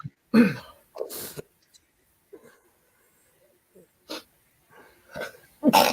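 A couple of sharp, explosive sneeze-like bursts among scattered quieter noises and throat sounds, near the microphone.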